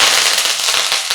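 Chana dal and dried red chillies crackle sharply in hot tempering oil for a peanut sundal, a loud, dense burst of rapid pops close up.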